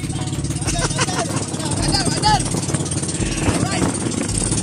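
Engine of a large wooden fishing boat running steadily, a low, continuous throbbing drone close by, with people talking over it throughout.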